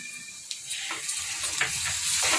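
Ginger garlic paste and turmeric sizzle and crackle in hot oil over browned onions for a Telangana crab and gongura curry, a close, continuous frying hiss with a few soft stirring scrapes.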